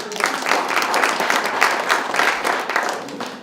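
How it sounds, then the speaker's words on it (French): A studio audience breaks into steady, fairly loud applause, many hands clapping together continuously for a few seconds with no clear voices. "On l'applaudit, s'il vous plaît."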